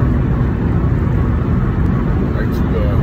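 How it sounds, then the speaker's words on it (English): Steady broadband road and engine rumble heard from inside a moving car, a constant low drone filling the whole stretch without any clear voice over it. "first apologize for the noise of driving"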